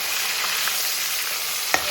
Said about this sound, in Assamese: এইফালে মাছ ফ্ৰাই কৰি আছোঁ